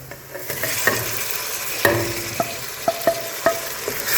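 Chopped tomatoes stirred into frying onions for a homestyle beef curry cooked on a small stove: soft sizzling beneath a series of sharp spoon scrapes and clinks against the pan, close and unvoiced.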